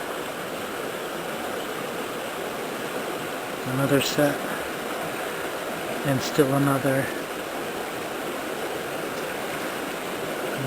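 Flowing woodland stream on a hiking trail, a steady broadband rush of water throughout, with someone speaking briefly over it twice.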